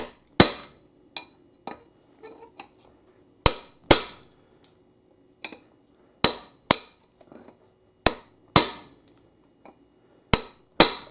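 Hammering on Lexus RX300 U140 transmission parts, sharp metallic strikes coming singly and in pairs at irregular intervals, loud and close with quiet gaps between.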